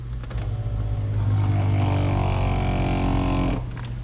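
An electric track motor hums and rises in a steady mechanical whine, running close by for a few seconds before cutting off.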